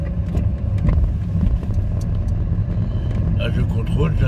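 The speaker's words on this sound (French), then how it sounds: "Une voiture elle arrive vite" A car's engine rumbles steadily and close in narrow town streets, heard from inside a moving vehicle, with someone talking over it.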